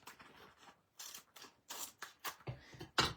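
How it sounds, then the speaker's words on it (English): Scissors snipping through excess adhesive sheet on cardstock, a run of quiet close crisp cuts growing louder toward the end, no talking. "I will cut the excess off."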